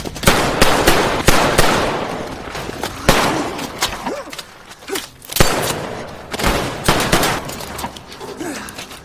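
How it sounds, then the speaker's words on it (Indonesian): Rapid bursts of gunfire crack repeatedly in a shootout with gangsters, some in quick automatic volleys, others as single loud shots, with brief gaps between exchanges. "aksi tembak-tembakan pun terjadi di antara mereka"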